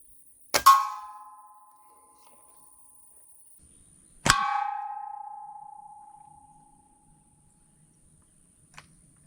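Two loud metallic clangs from air rifle pellets striking a welded metal target, each ringing out and decaying over a couple of seconds with a quiet gap between, followed by a faint tick near the end.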